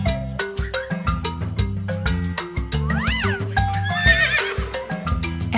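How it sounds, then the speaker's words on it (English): A horse neighs once in a long rising-and-falling whinny partway through, set against a bouncy, rhythmic children's music track that plays loudly throughout. "A horse."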